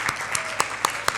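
A short burst of applause at a church service, hands clapping in an uneven rhythm with a roomy, crowd-like wash behind.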